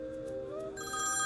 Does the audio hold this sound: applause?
no